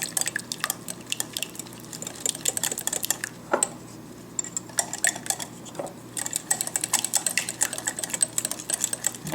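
A whisk beats honey and other wet ingredients in a bowl, giving rapid, steady clicking and clattering against the sides, with brief pauses between bursts.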